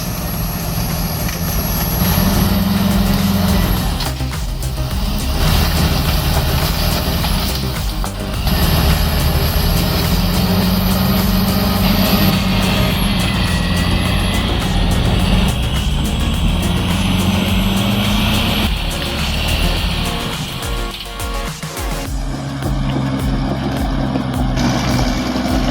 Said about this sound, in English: The Caterpillar D7R bulldozer with 240 horsepower is the ultimate yard clearing machine.